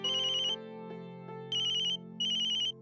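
A mobile phone ringtone trills in three bright, electronic bursts over a steady low tone, clear and close with no one speaking.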